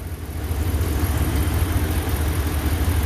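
Steady low idle from a 2017 Ram 1500 truck's 5.7L engine just after an AMSOIL engine flush, a brief, even rumble with no talk over it.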